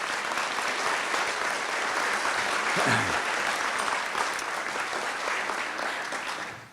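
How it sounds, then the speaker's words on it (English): Sustained applause from a dinner audience at a college of business Hall of Fame event, steady and dense for several seconds before tapering off at the end, with no talking over it. "I'd like to ask for a nice round of applause for all of them"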